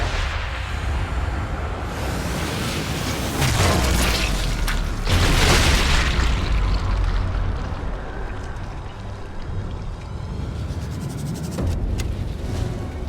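A loud explosive blast goes off beside Hitler in the video game Sniper Elite 5, with heavy booming rumbles and debris that roll on for several seconds and keep swelling again without pause.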